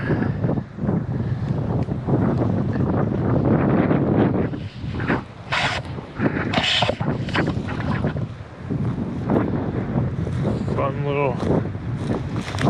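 Strong wind buffets the microphone in continuous low rumbling gusts, with a voice speaking intermittently underneath.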